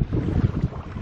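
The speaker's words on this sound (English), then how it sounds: "The wind has picked up considerably since we came down here." Strong wind blowing by the water at a lakeshore, a continuous low rumbling roar of buffeting on the microphone, close and steady, with no voices.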